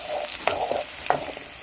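Torn dried red chillies sizzle in hot oil, a brief close crackling fry with a couple of sharp pops as pieces drop in, no voices.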